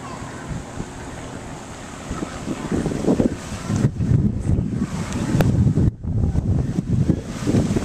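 Gusty wind buffets the microphone on Lake Okeechobee during a bass fishing tournament, with rough, fluctuating rushing noise and water sounds growing stronger midway, along with faint voices.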